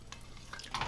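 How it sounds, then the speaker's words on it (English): Sicilian tomato sauce is stirred in a pot on simmer. Faint scraping and wet swishing strokes come over a low bubbling background, with the loudest stroke near the end. "keep on stirring it because it will burn"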